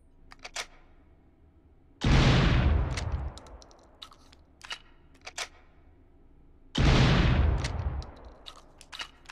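Two loud, close gunshots from a firearm in the VR shooter Hot Dogs, Horseshoes & Hand Grenades, several seconds apart, each with a long booming tail and light mechanical clicks of gun handling between them.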